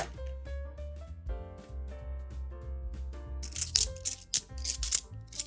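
£2 coins, including Brunel's Arches designs, drop into a bag, giving a run of close metallic clinks and jingles that grow busier and brighter toward the end.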